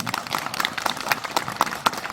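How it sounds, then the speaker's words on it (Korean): Audience clapping at a Buddhist monk's dharma talk, a short scattered round of applause from a modest crowd in a hall. "이건 나한테도 박수 쳐준 거죠?"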